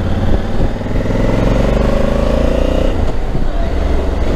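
A 2021 Honda Africa Twin Adventure Sports motorcycle riding on the road, its engine droning loudly and close with rising and falling rev tones, steady for the whole stretch with no talk over it.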